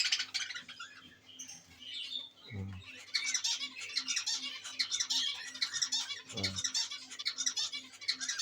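A budgerigar being hand-fed squawks in rapid, scratchy bursts almost without pause, close by, with two soft low thumps in between.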